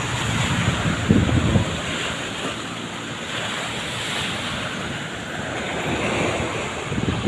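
Strong typhoon-driven waves pound a roadside seawall in a continuous roaring surge, with a heavier crash early on and wind buffeting the microphone throughout.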